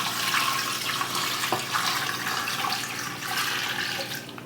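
Water pours steadily from a tap into a pot to make concentrated stock for southern fried chicken, a continuous splashing rush close by with no talking.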